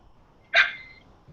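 A single recorded dog bark plays from a robot's voice recorder and playback module, one short sharp bark that fades quickly against a quiet background.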